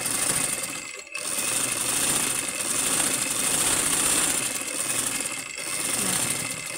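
A manual sewing machine runs a locking backstitch, stitching forward and then back in a steady, close mechanical whir that halts briefly twice before running on.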